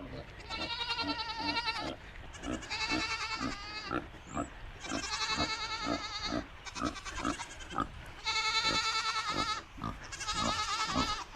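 Goats on a homestead bleat at feeding time, with pigs also present: loud, overlapping, wavering cries come in repeated bursts, close by and nearly continuous.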